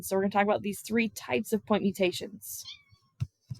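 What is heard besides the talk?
cat meowing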